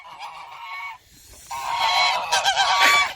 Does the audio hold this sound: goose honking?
yes